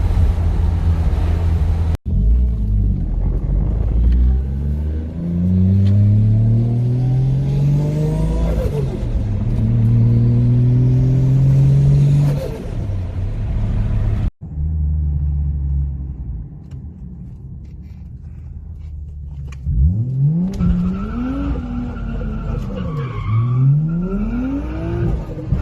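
A 1JZ-engined car revs hard and drifts on a wet road in Mexico, its engine climbing and falling through long loud pulls with squealing tires, a brief cut midway, then repeated sharp rev swells near the end.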